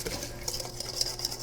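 Eggs and white granulated sugar whisked in a bowl, giving quick, rhythmic light clinks and scrapes of the whisk against the bowl, close by and fairly quiet, with no talk.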